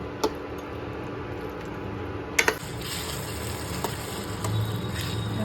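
Masala sautéed and stirred in a pan for a home-cooked dish, a steady low sizzle with a few sharp clicks of a spoon against the pan, close and fairly quiet with no talk.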